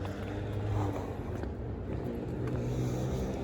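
A truck engine running rough passes on a street at night, a fairly close low rumbling drone with uneven pulsing that holds steady for a few seconds.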